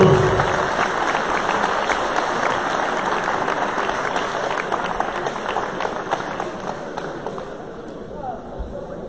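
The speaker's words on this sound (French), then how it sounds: "Je voudrais qu'on les applaudisse, s'il vous plaît." An audience at a kickboxing fight night claps steadily for the event's promoters, with dense applause that slowly fades while voices carry on beneath it.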